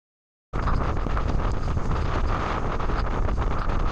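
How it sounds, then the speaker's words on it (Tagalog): Strong wind with rain during a storm at a seaside camp in Zambales buffets the microphone, a loud continuous roar that starts abruptly after a moment of silence. "ay biglang lumakas ang hangin na may kasamang ulan."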